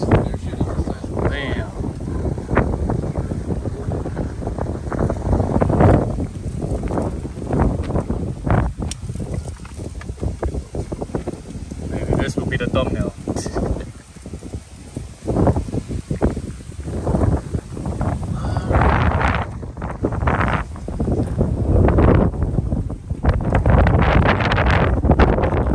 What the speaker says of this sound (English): And it's hella windy.